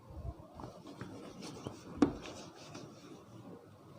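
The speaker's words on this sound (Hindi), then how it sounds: "मैं इनको यहाँ लिख देता हूँ ऊपर" Handwriting during a maths lesson, close scratchy strokes of pen or marker on a board or paper in short bursts, with one sharper tap, quiet and without talk.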